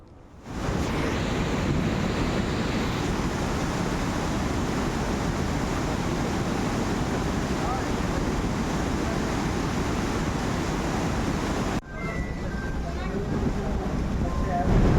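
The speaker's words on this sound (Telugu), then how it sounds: "18 గేట్లను ఎత్తివేసి దిగువన నీటిని విడుదల చేయడం అనేది జరిగింది." Heavy water roaring downstream after eighteen dam gates were raised, more than a lakh cusecs flowing; a dense, steady rushing wash lasts throughout, with a brief cut near the end, and no talk over it.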